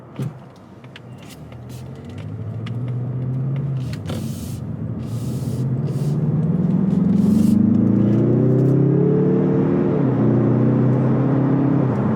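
A 2021 Mazda3 Turbo AWD accelerates on the road, its engine hum building and rising in pitch over several seconds inside the cabin, with a few brief clicks early on and no speech.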